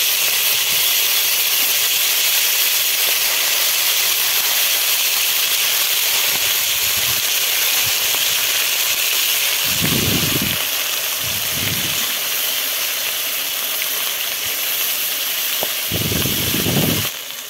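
Hilsa fish pieces sizzle in hot oil in a pan with black cumin seeds for a mustard hilsa and brinjal curry, a loud steady bright hiss throughout with occasional low clattering bursts of movement.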